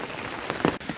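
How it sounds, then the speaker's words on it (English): Rain falls outdoors on a cold, rainy hike, a steady close patter of drops on surfaces with a few louder splashes, heard alone. "It is cold and rainy outside, folks."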